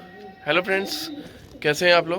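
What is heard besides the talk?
pigeons cooing in a loft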